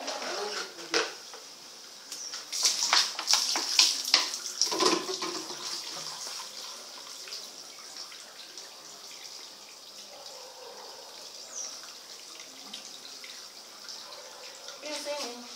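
Running water and splashing as a dog is bathed to rid it of fleas, louder in bursts over the first few seconds and then settling into a faint trickle with soft background voices.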